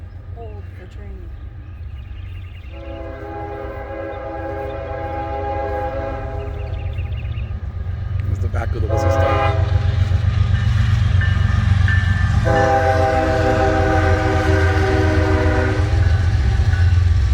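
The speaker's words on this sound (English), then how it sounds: "Oh, another Train." A train rolls past the Whistle Stop Cafe area, sounding its horn in two long blasts with a short break between them, with rumbling wheels building louder as it nears and a voice speaking briefly.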